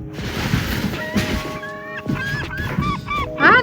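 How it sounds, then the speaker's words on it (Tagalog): A bird calls near a dump in Nunavut with a quick series of loud, nasal, honking cries in close succession over faint background noise. "Nagtatawag! Nagtatawag yung ibon."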